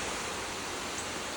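Rushing water at Burgess Falls State Park makes a steady, loud, broadband roar with no breaks, heard close with no voices over it.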